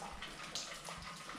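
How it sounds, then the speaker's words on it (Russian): Strong, steady rush of running water pouring somewhere inside an abandoned forest camp near a swimming pool, a continuous broadband hiss at moderate level with no voices. "Откуда воды столько течет"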